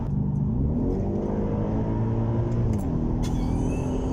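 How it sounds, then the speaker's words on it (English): V8 engine revving up close, a deep rumbling roar whose pitch climbs and falls through a couple of throttle blips, loud and continuous without talking. "What is it that is making that amazing V8 noise?"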